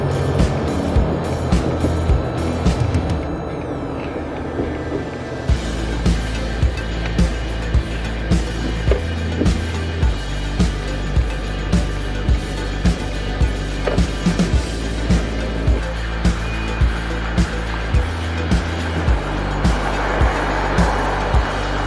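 A pickup truck fitted with a bed extender cruises on a highway, with a steady low road drone and a regular rhythmic clicking, likely the hazard lights, running throughout, close and without talk.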